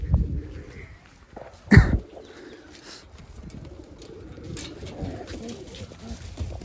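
Caged pigeons in a loft give soft cooing calls amid low rustling and shuffling, with one louder throaty burst standing out near the middle and quieter calls continuing throughout.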